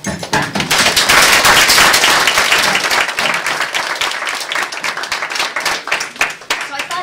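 An audience gives a loud round of applause, dense clapping from many hands that peaks early and then thins into scattered, uneven claps.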